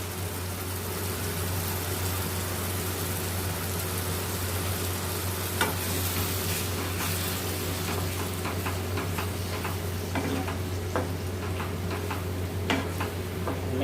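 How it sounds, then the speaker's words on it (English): Onion tomato masala cooking in oil in a kadhai sizzles steadily up close, with scattered ticking pops and spatters growing more frequent toward the end. "has been sizzling for 5 minutes and the oil has started to separate"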